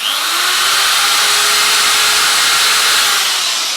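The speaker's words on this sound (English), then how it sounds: "so I'm just going to drill it some more" A power drill whines steadily and loudly at close range, drilling a plastic bottle cap, a continuous high-pitched motor drone with no speech.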